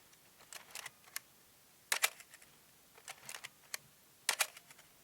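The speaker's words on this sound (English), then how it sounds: "Let's just give you the sound of the shutter." Quiet, crisp camera shutter clicks come in small clusters of two or three, spaced out over a few seconds in an otherwise silent room.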